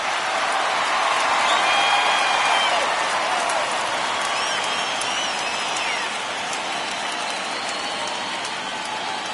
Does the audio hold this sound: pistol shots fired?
no